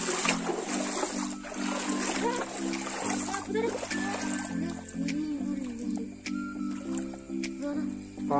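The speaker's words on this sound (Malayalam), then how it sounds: "നമുക്ക് തോടിലൂടെ നടക്കുന്നു" Footsteps sloshing and splashing through a shallow stream, with steady watery splatter and trickling throughout, close by, while voices talk over it.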